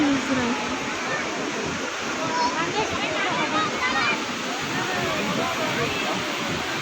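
Water gushing from the six opened gates of the Himayat Sagar reservoir makes a continuous broad roar, with faint voices of onlookers under the rush.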